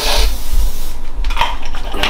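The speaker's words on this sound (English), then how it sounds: "zero calorie cooking spray." Zero calorie cooking spray hisses from an aerosol can over a bowl while a first meal is prepared in a kitchen, a few short close bursts among light clinks of dishes.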